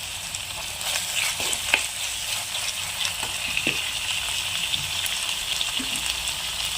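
Curry leaves hit hot oil for a Kerala-style sardine curry, setting off a loud, constant hiss broken by a few scattered crackles and light stirring knocks, close up with no voices.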